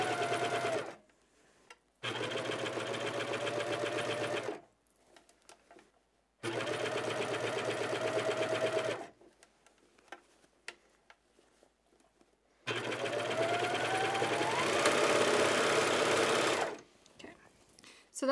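A regular home sewing machine stitches fabric in three long steady runs of rapid mechanical whirring and clatter, with short pauses between runs and a voice talking quietly in the gaps.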